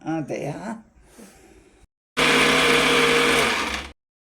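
A mixer grinder blending green kabab masala of coriander leaves, curry leaves and green chillies, loud steady whirring for over a second after a short stretch of talk.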